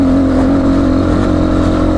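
A GPX FSE300R motorcycle engine while riding, a steady loud close drone with a faint pitch shift and constant wind rush underneath.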